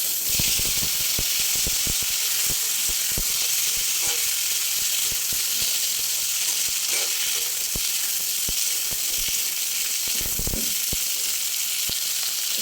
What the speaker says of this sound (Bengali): আমি কড়াইয়ে তেল দিয়ে নিয়েছি, আর তেলটা গরম হলে আমি মাছগুলোকে ছেড়ে দেবো